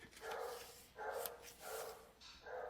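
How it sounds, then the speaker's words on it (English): A pet dog barks four times in a steady rhythm, each bark a short, moderately loud burst with brief pauses between, and no talk. "That's my dog, Georgia."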